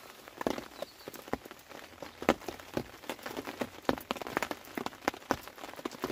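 Rain falls outdoors at Kingsnordley Fisheries, pattering with irregular close drips and taps against a steady soft hiss, fairly quiet with no talking.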